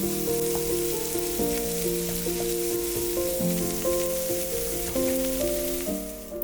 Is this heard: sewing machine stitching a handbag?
no